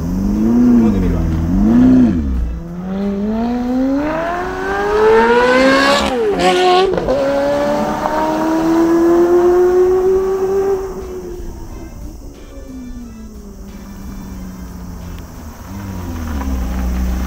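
A Ferrari sports car accelerating hard, its engine note climbing loudly through the revs with a shift and a renewed surge, close and dominant, with faint talk mixed in.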